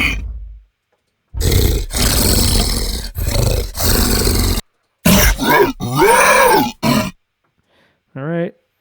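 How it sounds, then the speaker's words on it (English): Library gorilla attack sounds play in turn: a series of loud, close roars and guttural grunting bursts separated by short silences, ending with a brief wavering growl. "Let's hear the alerted gorilla sounds. Maybe some of the attack sounds are probably pretty good."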